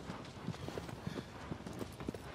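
Horse galloping in the video game Shadow of the Colossus, with quick rhythmic hoofbeats drumming steadily over a quiet, soft background.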